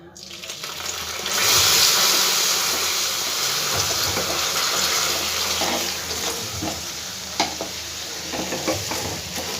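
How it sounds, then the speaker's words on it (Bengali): A small splash of water poured into a hot pan, with the gas flame switched off, while making a homemade plum cake, giving a brief pour near the start followed by steady hissing sizzle and clinks close by. "গ্যাসের ফ্লেমটাকে অফ করে দিলাম, দিয়ে এবার আমি জল দেবো খুব অল্প পরিমাণে"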